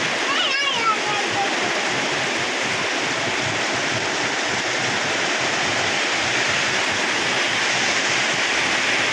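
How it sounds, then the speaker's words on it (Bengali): A heavy rain downpour roars steadily and loudly, a dense wash of splashing water like a stream, with a short chirping sound near the start. "এবছরে এত পরিমাণ বৃষ্টি আজ যে হইল কখনোই দেখা যায়নি"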